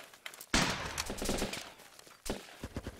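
Rapid gunfire in the video game Running With Rifles: a sharp burst of shots opens after a quiet moment, followed by scattered bangs and thuds, then another loud volley near the end, close and punchy with no talking over it.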